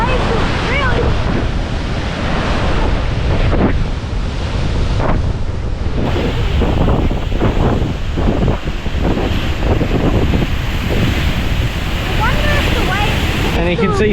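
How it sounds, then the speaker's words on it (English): Ocean waves pounding on rocks below a cliff-edge overhang near Albany, a loud continuous roar of surf churning under heavy wind buffeting the microphone. "it is pounding down there on the rocks. Those waves are really..."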